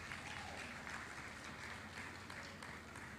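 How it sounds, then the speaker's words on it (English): Faint, steady applause from a conference audience at a Bank of Industry International Women's Day event, a dense wash of clapping heard from a distance with no pauses. "Please, can we give them a round of applause?"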